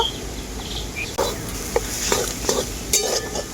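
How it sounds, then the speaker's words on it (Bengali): Soya chunks are sautéed in a pan, with a continuous sizzle under repeated scraping strokes of a spatula, a few sharp clicks standing out, close and fairly loud, no voices. "সয়া বড়ি একসাথে খুব ভালো করে এভাবে কষিয়ে নেব"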